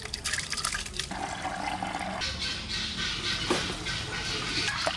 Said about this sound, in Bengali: চালটা ধুয়ে নিলাম, ভালো করে জলটা ছেঁকে নিলাম।